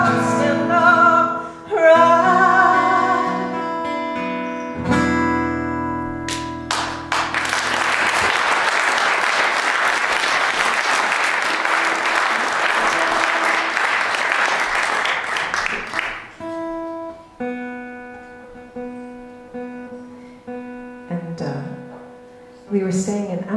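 A concert audience bursts into loud, sustained clapping and applause for about ten seconds after a passage of music, then fades as music resumes.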